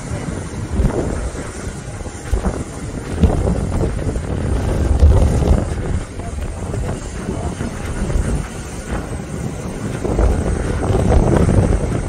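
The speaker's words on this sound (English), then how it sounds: "Japan Airlines takeoff and landing scenery." A Japan Airlines Boeing 787 taking off or landing at Osaka Itami Airport gives a continuous loud low jet rumble with a broad roar that swells and stays steady, heard from the surroundings without any voices.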